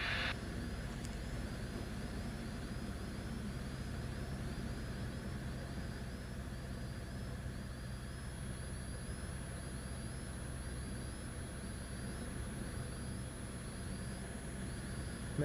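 A Savannah light aircraft's engine drones steadily at reduced power on landing approach, a constant, even hum with wind noise that holds unchanged throughout.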